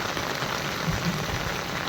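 Continuous heavy rainfall on a farm in Gujarat, India, hissing close by, a steady wash of drops hitting the ground with nothing else heard.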